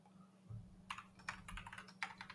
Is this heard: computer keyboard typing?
yes